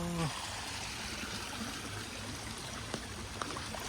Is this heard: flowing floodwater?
yes